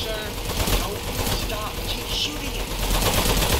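Gunfire from the video game Aperture Desk Job, a steady stream of rapid shots running continuously through the whole clip, with a voice talking faintly underneath.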